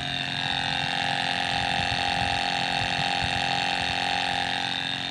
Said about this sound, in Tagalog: umaandar yung kanyang makina